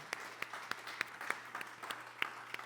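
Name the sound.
congregation applause in church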